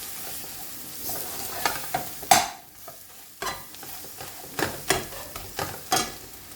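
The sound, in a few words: chicken wings frying in a pan on low heat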